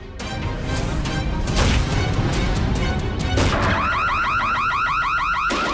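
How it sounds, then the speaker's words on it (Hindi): A door is broken down in a Hindi crime drama: heavy, loud crashing and splintering impacts fill the first seconds, then a burglar alarm starts up with a rapid, repeating warble. "तोड़ दो दरवाजा।"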